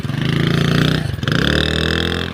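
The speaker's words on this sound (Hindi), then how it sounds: "और ये देखे हमारा मोटरसाइकिल फंस गया है।" A motorcycle stuck in the ground revs its engine in two strained bursts, a loud rough buzzing that dips briefly mid-way and then rises again, close by.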